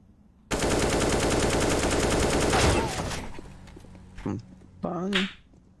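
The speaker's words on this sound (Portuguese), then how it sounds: "o cara deu 2 tiros na smoke" A rapid, loud burst of automatic gunfire in the game CS:GO lasting a couple of seconds, followed by a few scattered sharp sounds and brief voices.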